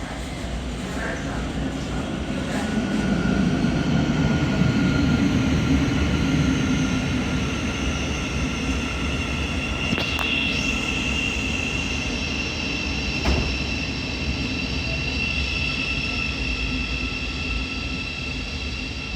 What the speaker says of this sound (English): There's the Thameslink service coming around the corner, arriving into platform 1, going from Cambridge to Brighton.